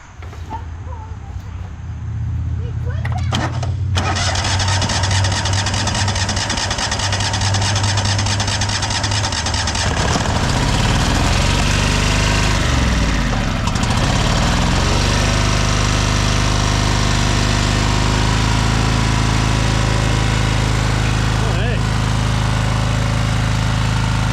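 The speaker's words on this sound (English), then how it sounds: "we're gonna fire it up" A Cub Cadet 2186 lawn tractor engine cranking and firing up on one cylinder, then settling into a loud, close, uneven idle with a pronounced low throb and rough, lumpy running that continues to the end.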